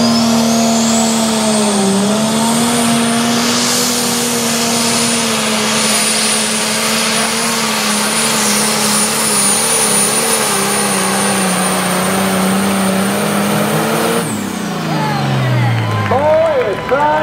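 A tractor in an outlaw tractor pull at Whitewright roars at full power, a loud sustained engine drone with a high whine that holds for about fourteen seconds before dropping off sharply, with an announcer talking over it.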